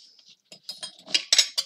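Metal cutlery clinks and rattles as pieces are set into an organizer, a series of bright, close, irregular clinks growing louder toward the end.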